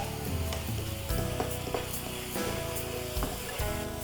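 Chicken masala with chilli powder, nut paste and a splash of milk sautéing in a pan, a steady close sizzle with periodic scraping stirs throughout, no talking.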